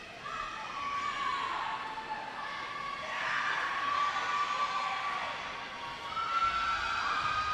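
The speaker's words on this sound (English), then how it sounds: "As her Cheyenne teammates to the right side of our crowd mic will cheer her on" Girls' high school swim teammates from Sheyenne cheer on a racing swimmer at an indoor pool meet, a steady wash of crowd shouting and whistle-like calls that swells and holds under the hall's echoing din.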